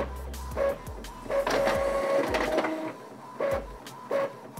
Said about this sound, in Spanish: Pasamos acá a la impresora, ya tomó la orden.